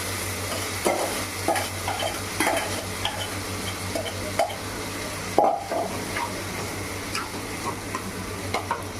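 Tomato liquid, dissolved well, going into a pan of potato and tomato sothi as it cooks, with a steady soft sizzle under scattered clinks and stirring knocks, close by with no talk.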